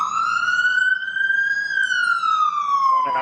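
A single siren wails in one long, slow tone that rises and then falls, steady and clear behind faint background noise.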